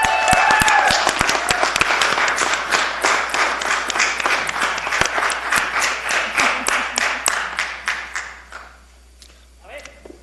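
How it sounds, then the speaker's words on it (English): Audience applause at a town council meeting: dense, crisp hand clapping that gradually thins into scattered claps and fades out, with a few stray claps near the end. "She gets a clap for that."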